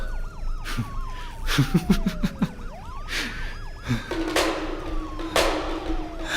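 An emergency siren wails with rising and falling sweeps amid sharp impacts and bursts of noise, sounding dramatic and close.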